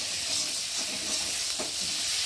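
Spice paste for a parshe fish curry sizzles steadily in hot oil, giving an even, close, crackling hiss with faint stirring scrapes underneath.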